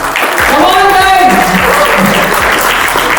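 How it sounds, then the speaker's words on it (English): An audience claps for Kunal at the Traders Conclave 3.0 trading event: dense, steady applause fills the hall for about three seconds, loud and close, while a voice speaks over the clapping. "Let's have a round of applause for Kunal then"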